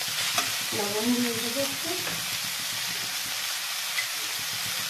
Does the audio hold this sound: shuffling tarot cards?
no